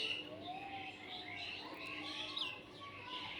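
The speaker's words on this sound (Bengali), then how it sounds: "চারো সাইডে পাখির ডাক আর ডাক আমার কাছে খুবই ভালো লাগে।" Several birds chirp and call around an outdoor spot, a steady layer of overlapping tweets and short whistles spread through the whole moment at moderate, fairly distant loudness.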